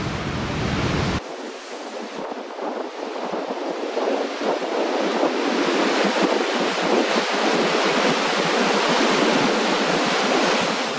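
Ocean surf at Prellezo, Spain, with waves rushing and breaking in a continuous loud wash and strong wind buffeting the microphone, no voices.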